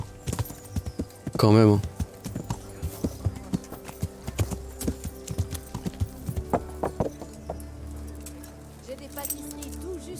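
Horse hooves clip-clop in a steady riding rhythm through a medieval village in Kingdom Come: Deliverance, close and continuous, with a brief louder burst early on and someone talking over the hoofbeats.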